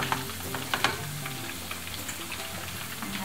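Battered chicken fillet sizzles steadily in a hot frying pan, a continuous close crackle with a few sharper pops near the start and no talking.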